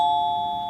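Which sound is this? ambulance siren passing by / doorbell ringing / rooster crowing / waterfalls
doorbell ringing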